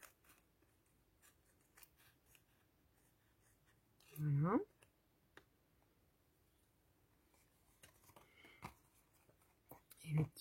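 Scissors cutting through paper for a junk journal craft, a couple of short crisp snips standing out against a quiet room with faint handling rustles.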